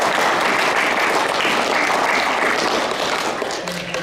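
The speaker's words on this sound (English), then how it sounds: "Would you give the junior committee a big round of applause too," Crowd applause at a junior rugby club prize-giving, sustained dense clapping from a room full of people that fades slightly toward the end.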